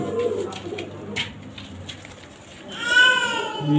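Pakistani pigeon chicks coo in low, soft bursts near the start, with brief higher chirps and a rising call toward the end over a background of room noise.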